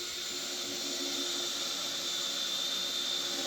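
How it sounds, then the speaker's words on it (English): A cordless drill driver runs continuously at a steady high whine while driving screws into a Sprinter van's floor, close and alone with no talk. "I'm using my drill driver just to prove that"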